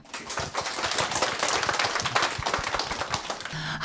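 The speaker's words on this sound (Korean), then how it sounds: "큰 박수 좀 보내주세요" An indoor audience at a poet's lecture event claps continuously, dense and fairly even throughout, heard from within the room.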